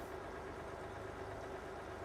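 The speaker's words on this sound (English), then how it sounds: "sounds like an American truck" American truck engine idling in the farming game Farming Simulator 22, a steady low rumble that holds an even level throughout without revving.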